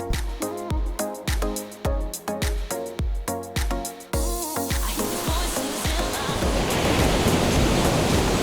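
Steady, broad rush of ocean waves rolling onto shore takes over after about four seconds of rhythmic music beats, then continues evenly and fairly loud to the end with no voices.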